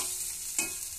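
A salted egg frying in a kadai hisses with a steady sizzle, broken by a sharp scrape of stirring partway through, close and with no voices.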